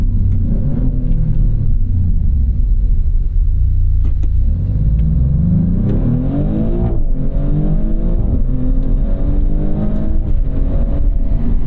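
A 2024 Maserati GranTurismo Trofeo under hard acceleration, its engine a loud, steady close-up roar rising in pitch through the revs with audible gear shifts from the ZF automatic in Corsa mode, heard from inside the cabin.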